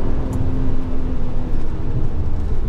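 A BMW 1M drones steadily as it drives, with a low engine hum and road noise close up. The sound is loud and even, with no speech.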